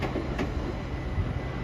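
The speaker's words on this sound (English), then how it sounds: "there's a freight train over there" A freight train hauled by a class 66 locomotive rolling past on an Oxfordshire railway line, a steady rumbling roar of wagons and wheels close by, with no talk.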